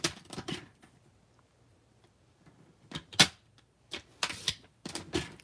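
Paper being trimmed with a paper trimmer in a craft setting, heard as a few sharp, separate cutting and sliding clicks with quiet gaps between them.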